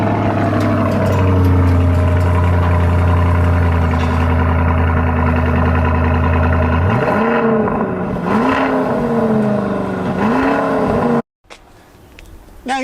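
A Lamborghini Urus engine idles with a deep steady rumble, then revs up in several rising roars before cutting off abruptly, loud and close.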